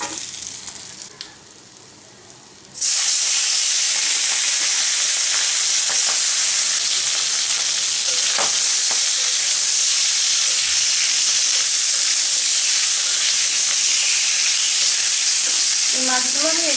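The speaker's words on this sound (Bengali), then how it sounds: "এই মাছগুলো আমি এইভাবে ভেজে নেব" Tengra fish frying in hot oil sizzles and crackles loudly and without a break. The sound starts after a quieter opening and carries on steady and close, with a few scraping stirs near the end.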